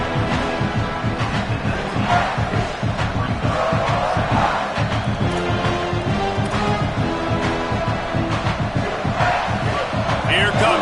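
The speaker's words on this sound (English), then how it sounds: "this crowd is turning it up a notch" Loud stadium crowd roaring and cheering steadily at a college football game, Texas A&M at South Carolina, with a commentator's voice running over the noise.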